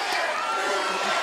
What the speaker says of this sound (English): Listen to this crowd chanting